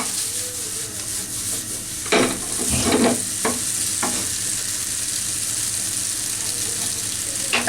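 A restaurant chef stirs chicken chowmein noodles in a small wok, with a steady frying sizzle under a few sharp scraping clatters of the spatula.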